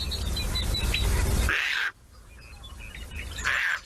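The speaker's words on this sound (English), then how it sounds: "That is the Caspian tern." A Caspian tern, a large member of the gull family, gives two harsh, raspy calls, each under half a second and a couple of seconds apart, over a steady rumbling background.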